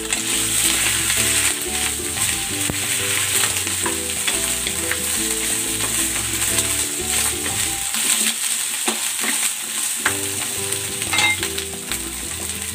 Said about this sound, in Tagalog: Then, igigisa ko na tong okra.